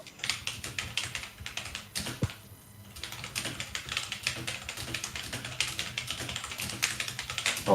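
Rapid computer keyboard typing, close and fairly loud, a dense run of clicky keystrokes with a brief pause partway through, with no talk over it.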